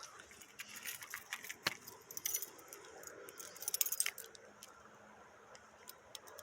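Keys jangling outdoors on a trip to a river, a series of faint metallic clinks and rattles coming in small clusters, busiest in the middle, over quiet background noise.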